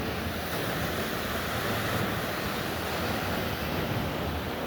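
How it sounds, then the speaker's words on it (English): A big, rising river rushes along on an Appalachian hike near waterfalls, a loud, steady roar of water with wind buffeting the microphone and no talking. "We got a nice big river running."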